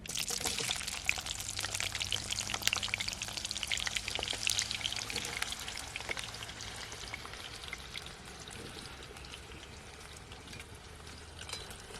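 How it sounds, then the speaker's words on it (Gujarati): Potatoes fry in hot oil for village-style Kathiyawadi undhiyu, a dense crackling sizzle that is loud and busy for the first eight seconds and then settles into a softer steady hiss, with no voices. "હવે બટેટા તળ નાખી"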